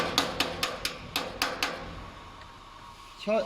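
A wrench or other metal piece taps the filling nozzle of a tube filling machine tight, about eight quick sharp metallic knocks in a row, close, followed by a brief voice.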